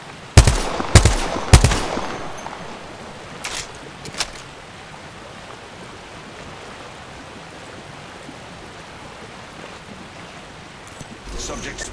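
Gunfire in a squad-based video game: a quick cluster of loud shots early on, a few more bursts around the middle, then fading to a low ambient hiss with a faint burst near the end.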